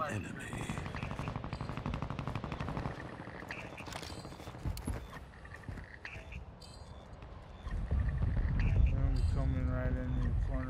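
Gunfire crackles in a Warzone 2 Resurgence trios match: rapid automatic bursts and scattered shots, some sharp and close, others farther off, with heavier rumbling effects toward the end.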